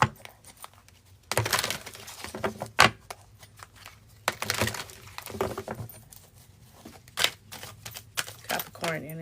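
Tarot cards being shuffled in quick, crisp riffling bursts and slaps, close to the microphone, interspersed with quieter handling and a voice speaking at times.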